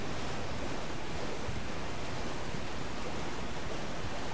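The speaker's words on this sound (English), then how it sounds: "I don't actually know how close you can get to that waterfall before you just die" A waterfall rushes in Elden Ring, a dense, unbroken roar of broadband noise, loud and steady with no voices heard.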